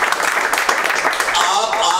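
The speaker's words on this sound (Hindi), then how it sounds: "एक बार जोरदार ताली बजा दो" Hands clapping for a couple of seconds in a classroom-style training session on Android phone CPU repair, a steady fairly close patter with voices mixed in.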